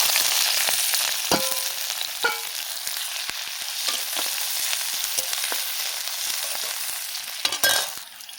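Chopped onion hits hot oil in a heated wok and fries with a loud, bright, continuous sizzle, broken by occasional sharp clinks and scrapes of a spatula stirring.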